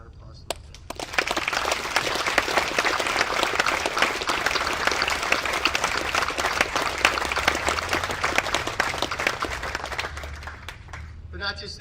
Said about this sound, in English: Ladies and gentlemen, I ask you to give a round of applause to them.